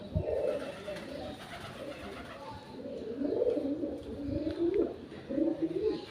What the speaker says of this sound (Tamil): புறாவோட சத்தம் கேட்குது